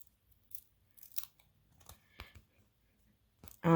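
Scissors snip through a dimensional adhesive pad for a handmade card, several small crisp clicks and cuts spread out amid quiet handling noises, close and soft, ending in a sudden louder burst.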